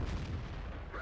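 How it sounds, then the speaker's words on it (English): A tank's main gun fires in World of Tanks, a single heavy booming report that fills the short moment at close range with no voices over it. "I kind of tend to snapshot with this gun because the aim time is horrible"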